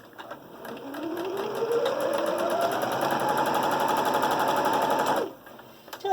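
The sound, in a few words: sewing machine stitching a fabric face mask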